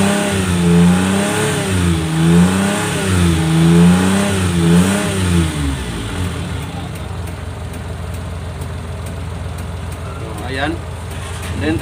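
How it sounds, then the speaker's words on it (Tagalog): A Suzuki Multicab F6A engine, not yet fully warmed up, revs loudly in rising and falling surges close by for about six seconds, then settles into a steadier idle as someone speaks. "Rev lang na muna natin guys."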